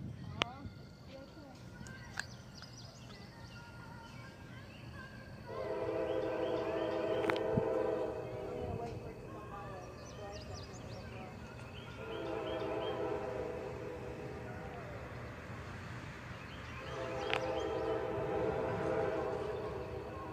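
An EMD GP40-2 locomotive on a local freight train sounds its horn in three sustained blasts, fairly distant, over rumbling rail noise and outdoor background.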